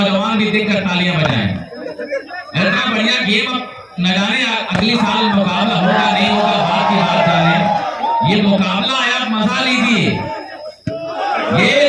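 Spectators at a village cricket final, Badal Mukhiya vs DLW Chandpur A in Dhumnagar, shout and cheer loudly in repeated surging bursts with short pauses between, voices close and raucous, some chuckling mixed in.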